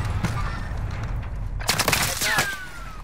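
Video game gunfire during a team match, with a burst of rapid shots cracking in the middle of the moment over constant background noise, close and loud, then further shots and a whistling streak.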